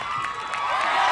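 Crowd at the American Ninja Warrior Vegas Finals cheering steadily, a dense continuous roar with shouts and whoops, fairly loud and without pauses.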